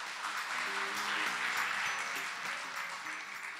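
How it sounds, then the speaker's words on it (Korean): An audience at a forum opening applauds to welcome a former Minister of Information and Communications, a fairly faint, sustained round of clapping with some tonal background underneath. "Please welcome him with a warm round of applause."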